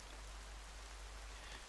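Steady, soft rainfall in the video game The Forest, hissing evenly throughout, a continuous wash of drops with a low rumble beneath and no voices.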